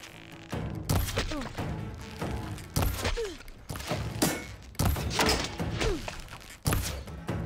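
Gunfire aimed at the player in Horizon Forbidden West, heard as repeated thuds and cracks in irregular bursts through busy, dense game action.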